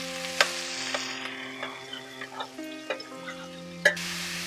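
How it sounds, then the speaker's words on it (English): Chopped onion frying with cumin seeds in a pan, a soft steady sizzle broken by light scraping and tapping as it is stirred, with a louder clink near the end. "Add the chopped onion and stir it around with the cumin seeds to get it all coated."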